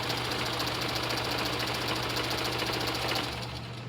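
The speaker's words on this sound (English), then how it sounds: "So here's how I'm sewing." A sewing machine stitches a petticoat for a DIY unicorn dress, running in one continuous fast mechanical whir with a steady hum close by, then easing off at the very end.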